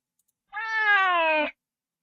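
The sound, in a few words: cat meow in a horror video game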